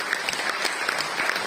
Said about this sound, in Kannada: ವಿಜಯ್ ಮತ್ತು ಹೇಮಾ ದಂಪತಿಗಳಿಗೆ ಅವರು ನನಗೆ ಕೊಟ್ಟಿರುವಂತಹ ಸಹಕಾರಕ್ಕೋಸ್ಕರ ಒಂದು ಚಪ್ಪಾಳೆ.